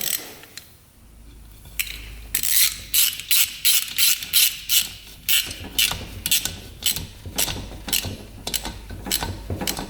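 Quick bursts of ratchet clicking as a bolt coated in Loctite is tightened on a 100HP hovercraft engine, a run of rhythmic clacking strokes close by, with quieter handling sounds before it starts.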